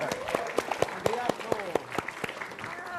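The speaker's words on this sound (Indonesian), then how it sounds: "Tepuk tangan untuk Adriano." Clapping and cheering from a stand-up comedy audience, with sharp claps rising over crowd noise and some voices mixed in.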